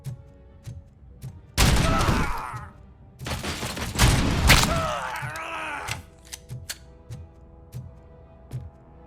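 Gunfire bursts from the RoboCop: Rogue City video game, two dense loud volleys of shots over a couple of seconds each, followed by quieter scattered thumps and a faint groan.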